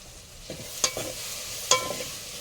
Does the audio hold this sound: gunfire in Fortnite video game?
no